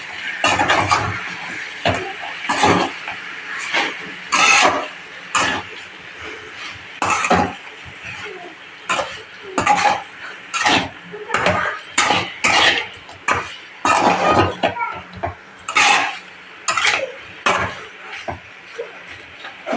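Chicken curry being stirred in a pot after chili powder goes in, a spoon scraping and clanking against the metal in repeated irregular strokes, close and fairly loud, with no talk.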